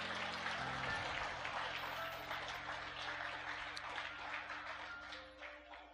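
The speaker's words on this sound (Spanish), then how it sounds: "Dale un fuerte aplauso." A congregation claps loudly during a church service, a dense, sustained burst of applause that holds steady and fades slightly toward the end.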